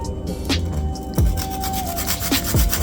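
Nutmeg rasped against a grater in a home kitchen, a few short scraping strokes with rubbing, woody texture, close and fairly loud with no talking.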